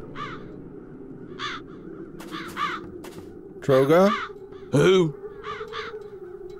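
Crows caw in the video game The Dark Eye: Chains of Satinav, harsh repeated calls scattered through the clip, two loud close ones in the middle, over a low ambient drone, with brief speech.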